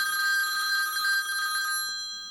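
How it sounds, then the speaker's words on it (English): A telephone rings in an audio drama, a steady bright electronic trill with a sustained tone that repeats for about two seconds before cutting off, alone and clear. "A phone rings."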